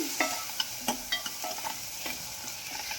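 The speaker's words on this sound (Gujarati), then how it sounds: "એકદમ ઝીણું ઝીણું કટ કરેલું છે તો એને પણ એમાં એડ કરશું અને સારી રીતે મિક્સ કરશું અને આવી રીતે સાતરશું આપણે" Finely chopped tomato sautés and is stirred in a pan of hot oil while cooking traditional dal bhat, a continuous close sizzle broken by repeated scraping and clinking strokes of a spoon, with no speech.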